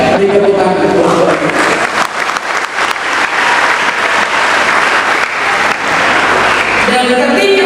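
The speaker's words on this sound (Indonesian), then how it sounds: "Beri tepuk tangan." Loud, sustained applause from an audience at an Indonesian gathering, thick clapping that holds strong throughout, with faint voices at the edges.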